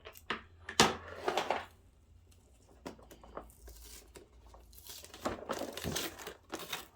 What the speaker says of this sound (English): It's just masking tape, but still, I don't want it to rip the box apart.